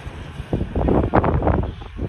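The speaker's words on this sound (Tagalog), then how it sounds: "itong problema mahangin. Lakas ng hangin dito." Strong wind gusting outdoors during young pigeon training at Barayong, a loud, steady rushing roar buffeting the microphone and swelling in the middle.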